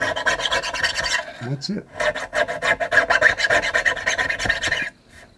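Sandpaper rasps over the frets of a bass guitar in quick, even back-and-forth strokes, heard close. There is a brief break midway, and a short spoken phrase comes near the end.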